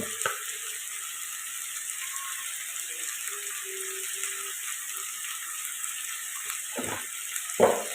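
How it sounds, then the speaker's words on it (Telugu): Steady sizzling hiss of chicken frying in a pan, constant and moderately loud, with a couple of brief stirring clatters near the end. "ఇది బాగా కలుపుకొని చికెన్లో నుంచి వాటర్ వచ్చేదాకా ఫ్రై చేసుకోవాలి"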